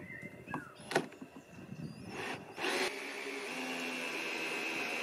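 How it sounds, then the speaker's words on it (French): An electric screwdriver drives screws into the roof of a chalet-roofed refuge beehive, with a few short clicks and handling knocks first, then a steady close motor whir that runs for a couple of seconds and stops sharply. "Et c'est parti pour visser"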